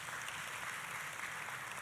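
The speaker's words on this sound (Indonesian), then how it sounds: "tepuk tangan saudaraku." Steady, distant applause from a church congregation during an Indonesian sermon by Pastor Nita Setiawan, a soft, even wash of clapping that holds for the whole moment without breaks.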